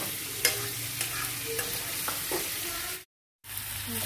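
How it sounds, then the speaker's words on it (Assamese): Onions frying in oil in a pan, a steady close sizzle with occasional stirring scrapes, cut by a brief silent gap near the end before the sizzling resumes. "এতিয়া পিঁয়াজৰ তেলখিনি ওলোৱালৈকে মই এইখিনি ধুনীয়াকৈ ভাজি থাকিম"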